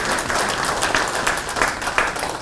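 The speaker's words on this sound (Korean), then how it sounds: "네 분께 다시 한번 박수로 좀 감사해 주시기 바랍니다" Audience applause closes a panel discussion on forest-product consumption patterns, a full, dense burst of many people clapping at once, loud and sustained with no speech over it.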